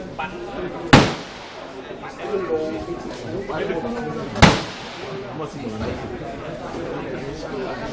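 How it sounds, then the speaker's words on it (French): Two sharp, loud gunshots ring out a few seconds apart at the firing range of the Cu Chi tunnels in Vietnam, over steady crowd chatter and talking voices. "ici on a le stand de tir où on peut tirer"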